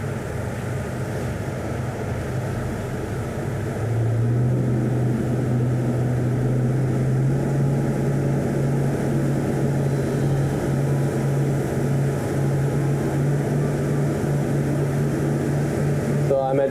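Twin engines on a Greenline 45 Coupé yacht drone steadily while cruising, a low hum that swells louder and deeper partway through as speed rises, heard close and alone without talk.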